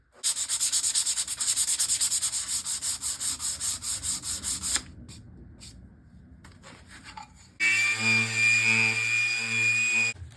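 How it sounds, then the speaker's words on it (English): A wooden box being sanded with what sounds like a power sander, a loud, rapidly pulsing grind for about five seconds, a quieter gap with faint handling noise, then a steadier, brighter whine resuming near and strong until the end. "I'll sand this off, finish over it"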